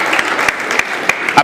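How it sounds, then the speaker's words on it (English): A short burst of steady clapping from an assembly audience applauding a female president, brisk and close, with a few sharper claps standing out. "A better round of applause for Madam President"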